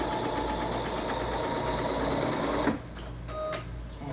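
A Bernina sewing machine with a #23 applique foot stitches in a fast, steady, close mechanical whir for almost three seconds, then stops, leaving faint handling noises.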